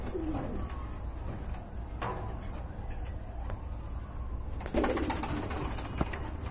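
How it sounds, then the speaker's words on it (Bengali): Pigeons coo softly among pet pigeons offered for sale, steady low murmuring over constant background hum and noise, with a louder burst near the end. "মাশাআল্লাহ আরেক জোড়া কবুতর দেখতে পাচ্ছেন সবজি কালারের ভিতরে"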